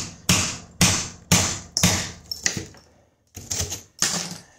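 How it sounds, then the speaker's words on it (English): Hammer blows on a chisel cutting through tile during a demolition job, about eight sharp, close metallic strikes in an irregular rhythm with a short pause midway, no talking. "I'm just going to have to take this chisel and just cut this tile all along here"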